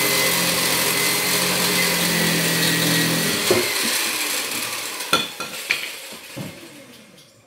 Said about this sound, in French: Donc une scie sauteuse.